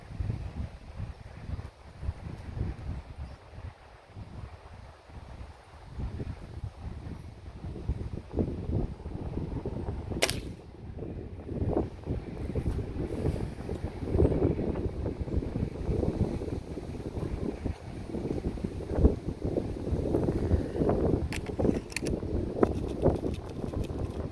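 Gusty outdoor wind buffets the microphone while a scope is sighted in on a Crosman F4 pellet rifle, a continuous low rumbling roar with stronger surges through the second half and no talking.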